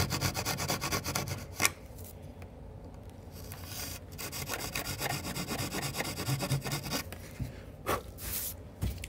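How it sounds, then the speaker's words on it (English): Hobby knife pushed at an angle into a model airplane aileron to cut a hinge slot, producing close, continuous scraping and rasping with a few sharper bursts. "I'll shove the knife down in at the angle"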